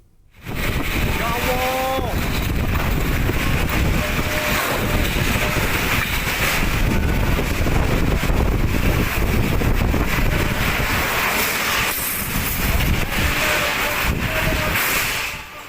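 A whirlwind storm tearing through a residential area in Waru and Tulangan, Sidoarjo, East Java, loud continuous roaring wind buffeting the microphone with rumbling gusts throughout, and voices faintly heard beneath.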